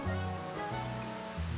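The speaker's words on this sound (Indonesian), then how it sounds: "Hujan, bang." Rain hisses steadily in a Minecraft Dawncraft modpack world, a soft continuous wash under layered tonal background music, with no talking.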